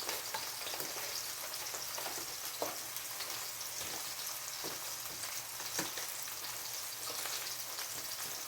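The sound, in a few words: Rice-A-Roni frying in a skillet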